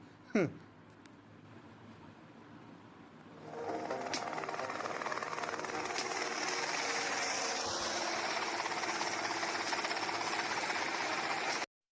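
A helicopter's steady rotor roar and engine drone fill the scene in the video game GTA Vice City, loud and close, after a brief sharp swoosh and a quieter opening stretch.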